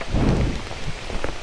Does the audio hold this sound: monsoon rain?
yes